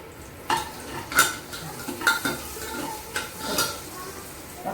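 Garlic, cumin and halved green chillies frying in hot oil in a pan, a soft steady sizzle with a few sharp clinks of a utensil against metal, close and without talk.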